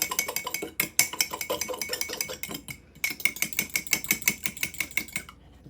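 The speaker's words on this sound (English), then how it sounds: "I'm going to stir this up really good." Cake mix batter with an egg is stirred briskly in a mug, making rapid rhythmic clinks and scrapes of a utensil against the mug wall, close and clear, with a short pause midway.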